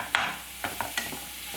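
Sliced onion sautéing in a pan, a gentle steady sizzle broken by several brief scraping stirs of a spatula.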